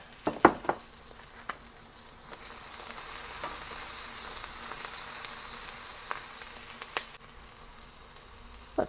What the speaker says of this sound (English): Our onions are sauteing nicely, and now it's time to add in the garlic.